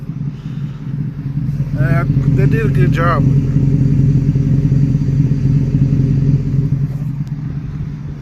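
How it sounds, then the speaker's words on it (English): An SN95 New Edge Ford Mustang with an aftermarket exhaust rumbles at a steady, loud, deep idle or cruise, heard from close by, with someone talking briefly over it. "Sounds really good with that exhaust."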